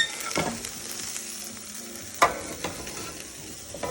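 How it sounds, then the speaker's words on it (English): A spoon stirs and scrapes in a pot over a steady sizzling hiss, with a few sharp knocks against the rim, close up. "Give it one last little stir here."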